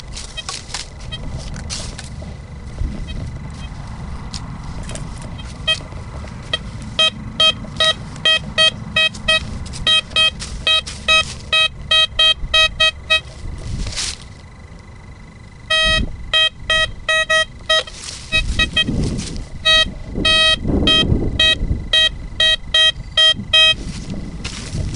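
A Blisstool v3 metal detector in a ploughed field gives a steady drifting tone over hot rock, with repeated short beeps and pulsing signal bursts sounding close and clear over low background rumble.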